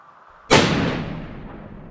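A single long-range rifle shot fired outdoors, a sharp loud crack after a brief quiet moment, followed by a long rolling echo that fades slowly.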